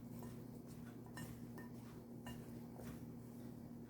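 Dry muffin ingredients, including baking powder, are mixed in a bowl, a faint repeated scraping and clinking of a utensil against the bowl in an uneven rhythm.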